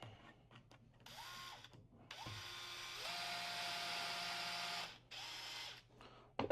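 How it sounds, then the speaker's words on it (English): A power drill drives a screw into the butt plate of a rifle stock, several short whirring bursts followed by a longer steady run, then a final brief burst, close and clear with no talking. "Use our drill."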